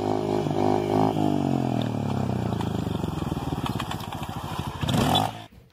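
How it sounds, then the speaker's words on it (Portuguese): Motorcycle engine held at high revs during a wheelie attempt, a loud close droning roar whose pitch falls and wavers before a final burst and an abrupt cutoff. "E vocês vão ver que a moto volta muito rápido."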